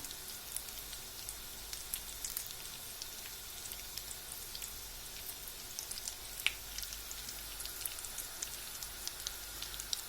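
Potato patties frying in hot oil in a pan, a steady fine crackle and sizzle with scattered pops, moderately quiet and continuous throughout.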